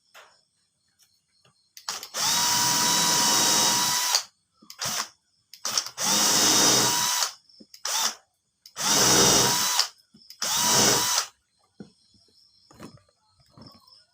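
A power drill whirs in repeated loud bursts, some long and some short, as screws are driven in while assembling a bird cage, with quiet pauses between each run.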